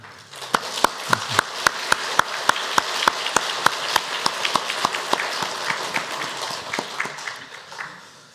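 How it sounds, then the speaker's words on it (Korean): A church congregation gives a warm round of applause for the honorary pastor at a Sunday memorial service, with prominent rhythmic claps from a nearby clapper over a steady wash of hands that gradually fades. "우리 큰 박수로 축복하시기 바랍니다"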